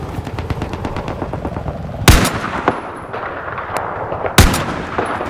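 Rapid gunfire rattles in a video game firefight, punctuated by two sharp, loud Barrett anti-vehicle rifle shots fired at a tank, each a cracking blast with a short echoing tail.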